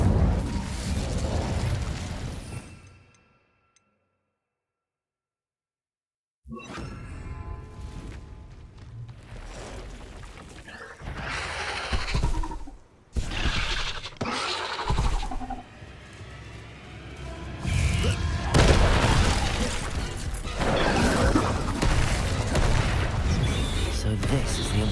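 Incendio fire spells blast in Hogwarts Legacy combat, with repeated explosive bursts and pops amid loud game action, a short silent gap early on, and spoken voices throughout.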